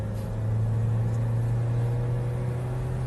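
A 2017 Toyota Innova Venturer petrol automatic runs with a steady, loud low engine drone and faint whir from inside the cabin. No clear rise in revs stands out, and no one speaks.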